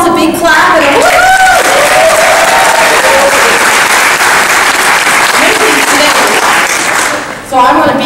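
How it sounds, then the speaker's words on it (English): Big conference audience applauding and whooping for a speaker at a training conference in Portland, loud dense clapping with cheers and woos that swell then briefly dip near the end, with a voice at the start and close. "give yourselves a big clap and a woo-hoo"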